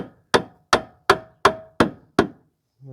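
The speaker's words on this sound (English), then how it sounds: "tap it lightly with the hammer to get it in" Six sharp metallic hammer taps on a bolt during a rear shock replacement, in an even rhythm, each ringing briefly, followed by a soft knock, close and clear with no talking.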